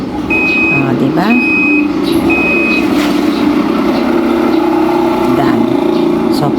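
An American Home fully automatic washing machine sounds three evenly spaced electronic beeps to signal the end of its cycle, heard over a steady background hum and room noise.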